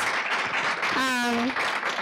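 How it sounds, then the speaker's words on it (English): An audience claps steadily and thickly for a row of panelists at a community forum, while a voice cheers or calls out briefly over the middle of the applause. "Can we give a round of applause to our panelists?"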